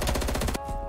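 Sniper rifle fire in a video game: a brief, loud crack with a ringing tail, over in about a second.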